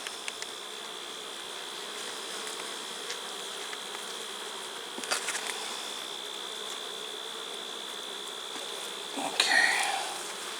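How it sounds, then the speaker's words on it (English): A dense, steady hum of many honeybees buzzing close by on hive frames, with occasional louder buzzes as individual bees fly past near the end. "there's a lot of bees on here"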